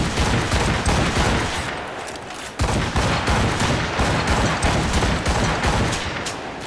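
Rapid gunfire in Assassin's Creed Rogue: dense, continuous volleys of loud shots crackling nonstop with a brief lull midway, close and overwhelming.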